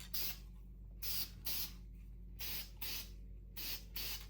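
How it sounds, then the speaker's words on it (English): Short hissing bursts of Prolux semi-gloss lacquer sealer sprayed from a can onto a carved wooden miniature preening drake mallard: about seven quick, evenly spaced puffs, close and fairly soft. "It's a lacquer spray for wood"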